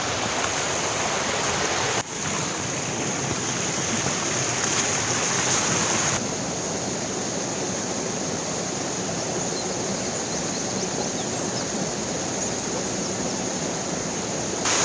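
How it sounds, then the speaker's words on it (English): A small waterfall on a moorland hike at Blackden Moor, a loud, steady hissing rush of falling water filling the whole stretch without pause, close to the microphone and with no talk. "Quite a cool little waterfall."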